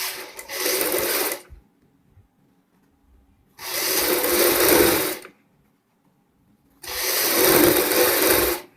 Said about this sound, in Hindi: यहाँ पे हम एक पैर की सिलाई लगाते हैं।